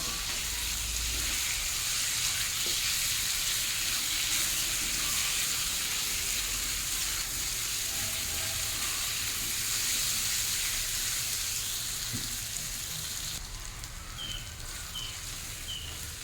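Ginger-garlic paste fries over a high flame with pointed gourd, prawns and pumpkin in a pan, giving a steady, even sizzle that hisses continuously from start to finish with no talking.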